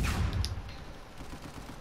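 Gunfire from a 2-vs-2 online match in the video game Uncharted 4, a dense burst of rumbling shots that starts loud and thins into a steady muffled clatter of continued firing.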